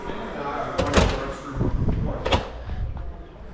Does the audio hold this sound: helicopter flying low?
no